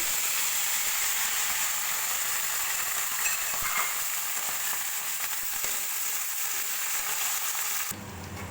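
Chopped onions fry steadily in hot oil in a pan for a mushroom masala, giving a continuous close, even sizzle with faint crackles and no talking, and a brief drop in the hiss near the end.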